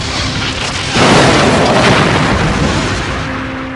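A Borg cube firing weapons in the video game Star Trek: Borg: a heavy booming explosion erupts about a second in, loud and rumbling, then fading slowly.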